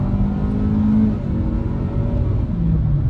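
A 2022 Kia Forte LXS engine revs in sport mode from inside the car while driving, a steady droning rumble with rising and falling engine pitch and no talk.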